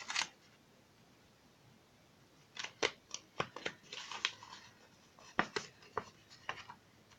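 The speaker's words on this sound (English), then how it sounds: "Let's trim a bit off." Scissors snip and trim paper for a Halloween treat box, a series of crisp close cuts arriving in short irregular bursts over a quiet background.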